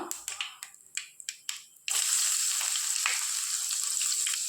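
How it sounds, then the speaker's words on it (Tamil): Mustard seeds crackle and pop in hot oil, a few sharp snaps at first, then dried red chillies and crushed garlic go in and a loud, steady sizzle takes over to the end. "கடுகு 1 ஸ்பூன் போட்டுக்கலாம். கடுகு நல்லா பொரியட்டும்."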